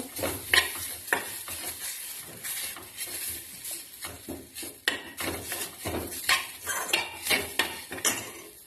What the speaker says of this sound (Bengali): মরিচটা দিয়ে একটুখানি টাইম নাড়াচাড়া করে নেব তারপর দিয়ে দিচ্ছি সামান্য একটু হলুদ দিয়ে আবার একটু নাড়াচাড়া করব